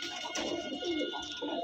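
Pigeons coo at a pigeon sale in Santragachi, a soft, steady murmur of cooing from several birds filling the whole stretch with no voices.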